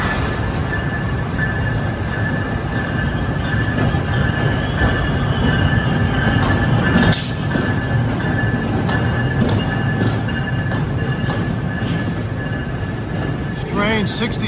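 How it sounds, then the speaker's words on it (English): Trains rumble through Penn Station in New York, with loud continuous wheel and rail noise, squeals, and a sharp clank as railroad switches are thrown. A voice talks faintly under the din. "You can hear the switches being thrown."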